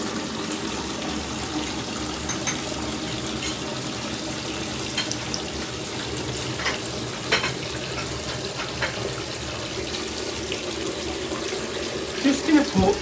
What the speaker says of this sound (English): so I'm just going to fill it to where that line is there